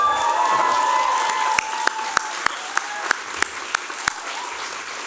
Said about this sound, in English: maybe you could give them a big round of applause to thank them